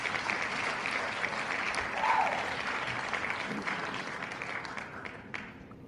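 Audience cheering and applause in a broad, steady wash throughout, with a brief swell around the middle and a few louder individual shouts poking out near the end; no speech over it.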